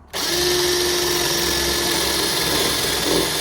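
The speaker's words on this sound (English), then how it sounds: "When you first start drilling them" A power drill starts up abruptly and runs at a steady, loud whine close by as it drills into the body of a 2021 Mercedes A220, with a continuous high-pitched buzz throughout.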